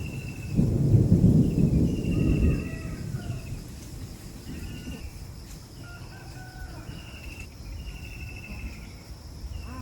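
A low rumble of thunder rolls for a couple of seconds over steady rain noise, with chirping insects and distant bird calls continuing afterward.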